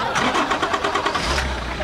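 A powerful diesel engine cranks with rapid rhythmic chugging pulses, then catches into a deep low rumble; loud and close, with voices over it.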